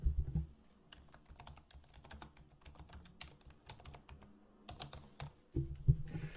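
Quick, irregular keystrokes on a computer keyboard as an account name is entered in QuickBooks Online accounting software, close and fairly quiet, in bursts with a couple of louder thumps near the start and end, no talking.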